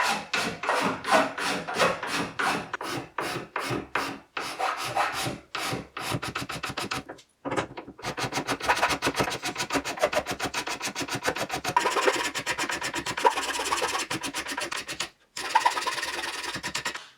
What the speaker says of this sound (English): using needle files